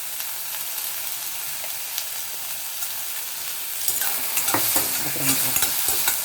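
Ivy gourd and onions for chutney sizzle steadily in oil in a pan, soft at first, then louder with scraping stirs and clatter toward the end; one brief spoken word.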